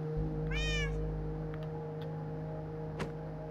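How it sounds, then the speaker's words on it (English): A single short meow from a cat sitting in a boat in Minecraft, close and clear over a steady low hum, followed by a few faint clicks. "How do I get the cat out of the boat?"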